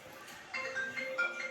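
A mobile phone rings indoors with a short melodic electronic tone pattern, repeating bright beeps heard clearly over a quiet room.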